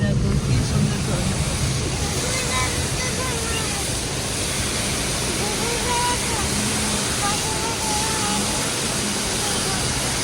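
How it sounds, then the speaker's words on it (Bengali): A roadside waterfall in Meghalaya, running low on water, makes a loud, steady rushing roar like broadband noise, with faint voices and a little wind mixed in underneath. "দেখো কি সুন্দর ঝর্ণা।"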